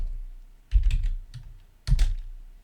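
Typing on a computer keyboard, two short clusters of key clacks about a second apart, close and crisp against a quiet background.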